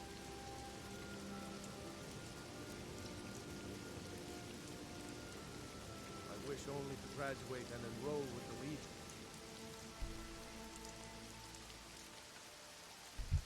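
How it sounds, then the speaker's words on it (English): Steady rain falls on the ground in Skyrim, a continuous hiss of drops across the whole stretch, with a game character's voice speaking briefly partway through and a few scattered thuds near the end. "It's raining all day."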